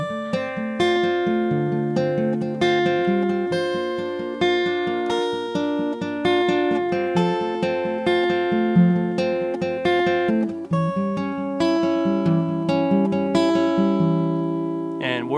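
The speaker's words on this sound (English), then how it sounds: "combine the finger picking pattern and with your ring finger, you'll kind of pluck that first string throughout" Steady fingerpicked acoustic guitar pattern for a song, with the ring finger repeatedly plucking the first string over thumbed root notes, an even ringing rhythm played alone and up close.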